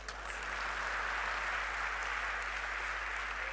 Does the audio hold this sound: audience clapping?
yes